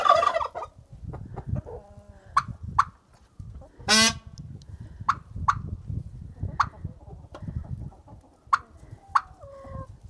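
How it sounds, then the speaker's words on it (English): A turkey hen calls in a yard, a series of loud, sharp, separate yelps and clucks spaced a second or so apart, with a brief honking gobble-like burst midway and faint background noise. "Turkey hen's responding."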